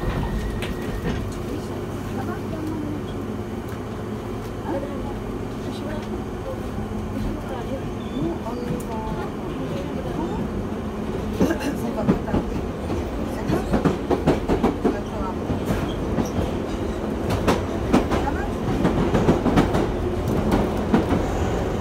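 A Piccadilly line tube train on the London Underground runs along the track with steady rumbling, rhythmic clatter and bursts of wheel noise that build louder toward the end, with a voice speaking faintly over it.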